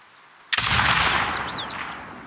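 A single sharp gunshot in The Last of Us Part II cracks out of near silence, then a reverberant tail fades over the next two seconds with faint whistling tones.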